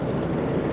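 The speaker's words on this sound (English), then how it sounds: "Helicopters." Helicopters drone overhead, a brief, loud, dense rotor and engine rumble with no gaps.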